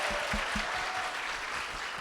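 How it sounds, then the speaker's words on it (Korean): An audience at a lecture event claps steadily, a dense, even wash of applause with a few louder hand claps near the start. "큰 박수 부탁드리겠습니다"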